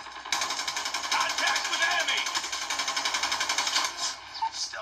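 A pistol reloads in a mobile shooting game playing through a rugged phone's loudspeaker, giving a run of rapid mechanical clicks and rattles that starts suddenly and stays fairly loud.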